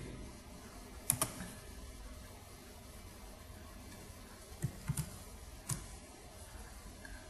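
Computer mouse clicks during work in animation software: a sharp double click near the start, then a few more light clicks later, close and distinct against quiet room hiss.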